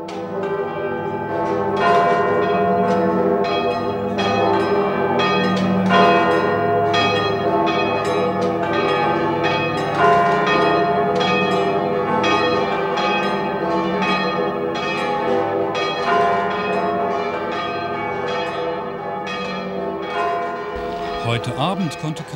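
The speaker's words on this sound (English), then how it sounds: "no one could miss or ignore the resounding of the bell Requiem" Church bells peal in Dresden's bell Requiem, many bells striking in overlapping, resonant rhythm that rings on continuously, loud and reverberant across the city.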